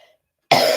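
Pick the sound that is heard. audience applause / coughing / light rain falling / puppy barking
coughing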